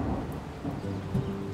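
Rain and thunder set a stormy scene in a narrated animal tale: a steady wash of falling rain with low rumbling thunder rolling beneath it, dense and continuous, with no voices over it.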